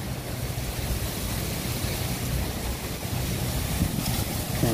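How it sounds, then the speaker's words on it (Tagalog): Strong wind roars steadily against the microphone, a constant broadband rush with gusty buffeting throughout. "Malakas ang hangin dito ngayon."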